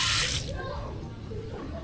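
A strong, cold stream from a restroom tap at a bamboo eco-park hisses loudly for a moment, then is shut off and fades to faint dripping and room noise.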